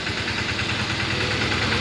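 A tractor engine runs close by with a steady, rhythmic low chugging throb, giving children a ride around a farm, with no voices.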